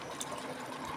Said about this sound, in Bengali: মাপ মতন জল দিয়ে দেবো